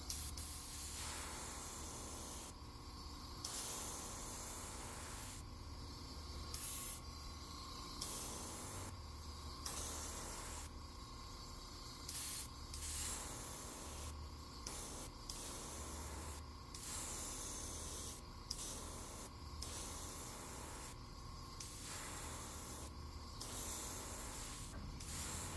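An airbrush gun spraying paint onto Megabass and Rapala DT10 fishing lures, close hissing bursts of varying length separated by short pauses, repeating steadily, no talking.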